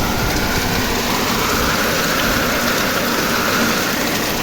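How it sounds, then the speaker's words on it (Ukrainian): Steady rain falls outside open windows, a loud, continuous broadband hiss with a faint low rumble beneath it and no voices. "Оце дощик гарний пішов."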